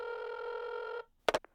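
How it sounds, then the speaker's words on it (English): A telephone receiver plays a long continuous ringback tone after a number is dialed, stopping after a second, followed by a couple of short clicks or knocks as the call connects. "Lucas dials Austin's number"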